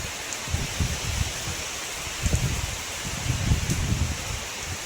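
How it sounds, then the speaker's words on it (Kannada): Heavy rain driven by wind falls outdoors in a steady, dense hiss with gusty low rumbles that swell and fade, with no voices over it. "ಜೋರಾಗಿ ಮಳೆ ಬಂದಾಗ ಆ ಮಳೆ ಬೀಳೋ ಸದ್ದು ಇದೆಯಲ್ಲ,"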